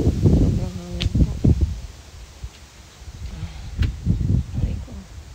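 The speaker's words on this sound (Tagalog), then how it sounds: "Sobrang hangin po." Strong wind buffets the microphone outdoors in gusty low rumbles that rise and fall, loud at the start and again near the end, with a few faint knocks in between.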